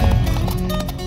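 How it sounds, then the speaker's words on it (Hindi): Several horses clip-clop on hard ground as they arrive, a steady dense run of hoofbeats close by, loud and continuous throughout, with a soft vocal murmur underneath. "ये इतने घोड़े किस लिए आए हैं यहाँ?"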